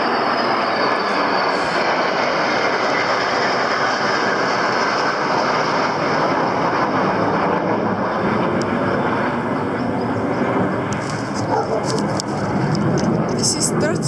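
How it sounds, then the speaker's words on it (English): Military aircraft passing overhead in Tiberias, Israel, during Independence Day celebrations, a loud continuous broadband roar filling the air without letup. "This is third time that I see a lot of airplanes in short time during 1 minute."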